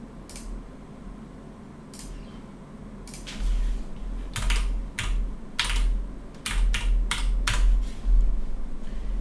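Typing on a computer keyboard, with several quiet keystrokes first and then a quicker run of clacking keys, close up over a low steady room hum, with no talking.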